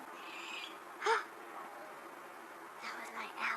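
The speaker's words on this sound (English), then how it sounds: "That was my owl." An owl screeches at night: one short, piercing call stands out near the start, then fainter, rougher calls follow against quiet outdoor background.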